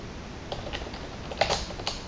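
Keys on a computer keyboard are typed in a few scattered, crisp clicks with a short cluster near the end, over a faint steady background hum.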